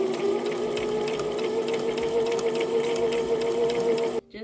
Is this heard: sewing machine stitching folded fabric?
yes